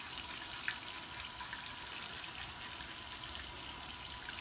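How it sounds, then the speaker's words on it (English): Running water from a tap rinses an open-backed OmniShaver electric razor, a steady, even gush that holds at one level without any pause or talk. "The back is open, so it's really easy to rinse out."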